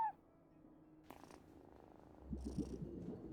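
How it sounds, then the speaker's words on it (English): A cat purring in the game Genshin Impact, a faint low rumble that grows slightly louder near the end, with a brief chime-like game sound and no talk. "No one except for a cat watching over the front deck."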